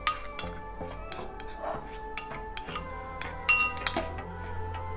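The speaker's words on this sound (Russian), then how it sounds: "Тщательно вымешиваем." Metal utensils clink against a glass or dish while potatoes are stirred with salt and spice, giving close, sharp, irregular taps over a quiet background.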